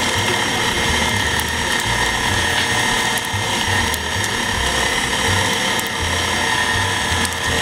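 A kitchen meat grinder churns steadily as meat is freshly ground, a continuous loud mechanical whir with a rhythmic low grinding pulse and faint clicks running unbroken throughout, with no talking.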